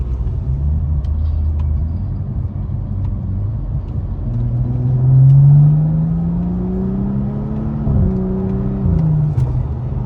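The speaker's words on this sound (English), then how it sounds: "if the car's in drive right now, if I go downshift" A BMW F30 engine hums steadily, then its pitch climbs and drops in stepped shifts as paddle-shifter downshifts change gears, a smooth whirring drone with no talking.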